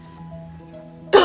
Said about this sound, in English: to clear my throat